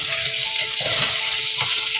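Potato pieces fry and sizzle steadily in a pan of hot oil with masala for aloo gobi curry, a loud continuous crackle with light stirring scrapes and no talking.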